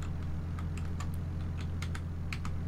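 Computer keyboard keys are pressed while a drifting game with a Skyline R32 runs, giving irregular, fairly close clicks that sit over a constant low hum.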